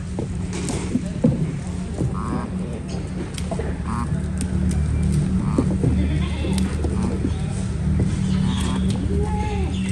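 Goats on a dairy farm bleat intermittently at close range over steady low farm and engine hum, with a voice talking now and then in the background.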